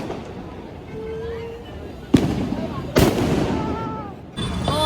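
Diwali firecrackers burst in two sharp, loud cracks with broadband crackle and a later third burst, set off close by outdoors while people talk and a whistling rocket rises faintly.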